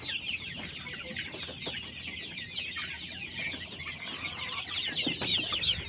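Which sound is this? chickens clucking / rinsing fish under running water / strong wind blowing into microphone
chickens clucking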